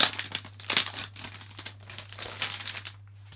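Sealed resealable plastic case around a gatefold laserdisc being opened, giving a series of close crinkling, crumpling bursts of stiff plastic in an uneven rhythm with a steady low hum underneath.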